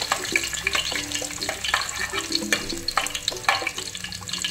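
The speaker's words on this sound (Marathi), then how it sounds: "आपला टोप गरम करायला ठेवून त्याच्यामध्ये मी 2 पळ्या तेल घातले. आणि आता याच्यामध्ये लसूण घालते." Garlic frying in hot oil in a cooking pot, a steady crackling sizzle with scattered sharp pops and occasional clinks of a utensil, close and continuous with no talking.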